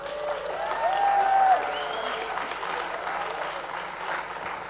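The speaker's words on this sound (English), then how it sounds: "Let's give her a round of applause." An audience at an international permaculture conference claps steadily to welcome a speaker, a dense, sustained round of applause from a large crowd, with brief whistles and a voice over it early on.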